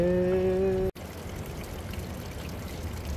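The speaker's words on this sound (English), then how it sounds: "Moist drips." Water in a beach tunnel at Oceanside Beach: a brief tonal sound gives way to steady, close trickling and pouring noise that runs unbroken to the end.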